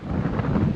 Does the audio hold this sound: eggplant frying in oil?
no